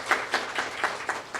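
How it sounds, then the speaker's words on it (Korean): Audience applause at a food and drug safety forum, a short burst of steady rhythmic clapping from a seated crowd, fairly close and alone. "다시 한번 박수 부탁드립니다"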